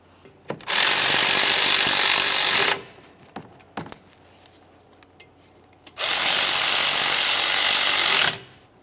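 Power tool runs in two long bursts while tightening brake caliper bolts on a 2001-2005 Ford Explorer Sport Trac, each burst about two seconds, separated by a quieter pause with a few sharp clicks and knocks.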